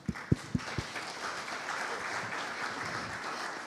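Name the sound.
audience applause for the panelists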